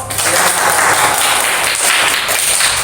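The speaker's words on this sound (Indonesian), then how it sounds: "Tepuk tangan untuk semua kelompok." A school class claps together in a brief burst of applause, dense and fairly close, lasting a few seconds.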